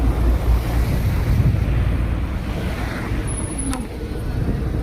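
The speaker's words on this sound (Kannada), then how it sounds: "ಬಟ್ ನಿಜವಾಗ್ಲೂ ನಮಗೆ ಬಿಸಿಲು ಏನೂ ಇಲ್ಲ, ಗಾಳಿನೇ ಜಾಸ್ತಿ" Strong wind buffets the microphone high in the mountains at Manali, Himachal Pradesh, a steady loud roar lasting the whole stretch with no talk over it.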